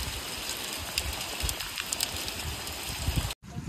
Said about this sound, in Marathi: बघा पाऊस बघा कसला आलाय.